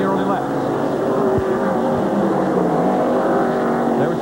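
NASCAR stock cars racing at Watkins Glen in 1993, a steady loud roar of engines running throughout with race commentary talking over it.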